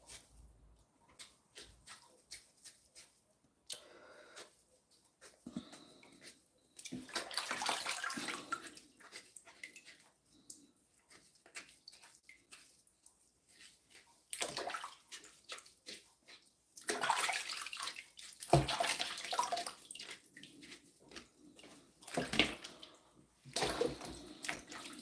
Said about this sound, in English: I just make sure it's thoroughly washed, and then scrub my ginger as well